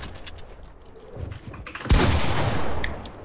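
Gunfire in the Fortnite video game: a burst of shots breaks out suddenly midway, with loud rapid firing continuing to the end over a low game background.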